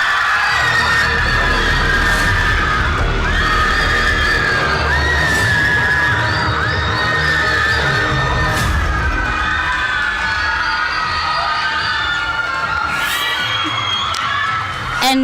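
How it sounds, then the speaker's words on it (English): Loud, continuous crowd cheering with shrill screams and whoops from an audience at the Mr Mpumalanga 2025 pageant coronation, filling the whole stretch without pause. "give a round of applause for Musa Zwane."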